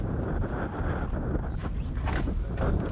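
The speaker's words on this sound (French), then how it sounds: "le vent souffle fort ici." Strong wind sweeping across the Namib desert, roaring steadily and loudly against the microphone with rough gusting bursts and no voices.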